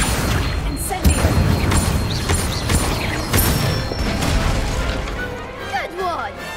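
Rapid fire-spell blasts in Hogwarts Legacy, with loud booming whooshes and crackling bursts over clanking effects, while characters' voices shout and speak throughout.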